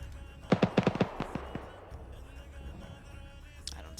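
Mortar fire in a military war game: a rapid cluster of sharp blasts, about eight impacts in quick succession over a second, followed by a few scattered fainter booms and quieter ambience.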